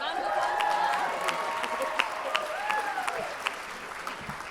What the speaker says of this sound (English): So, round of applause.